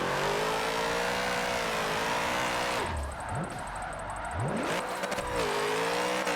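A rear-wheel-drive car drifting in Forza Motorsport: a loud, close engine holds high revs, drops off briefly as the gears shift and the revs swing, then climbs back to a sustained roar.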